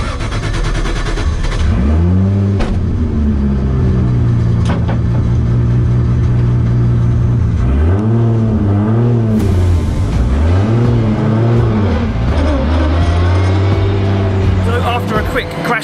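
A 900 bhp championship-winning Nissan Silvia S15 drift car revs hard on track. Its loud engine note climbs and falls in repeated sweeping surges and stays continuous and close throughout.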